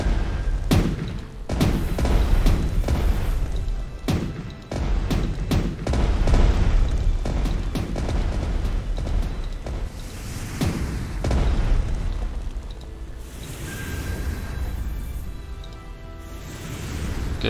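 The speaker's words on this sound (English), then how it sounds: "A gun battle." Naval gun battle in the Strategic Mind game, with a steady run of booming explosions and sharp blasts, some close and loud, others duller and farther off, over a rumbling battle bed and no voices.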